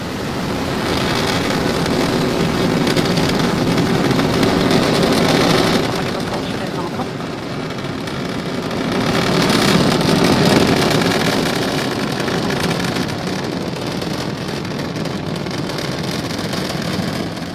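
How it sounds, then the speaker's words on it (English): A SpaceX Falcon 9 rocket lifts off from Pad 40 at Cape Canaveral, a sustained loud rumbling roar that swells and fades in waves with wind buffeting the microphone, while a voice speaks over it. "Falcon 9 has successfully lifted off from Pad 40 at Cape Canaveral Air Force Station"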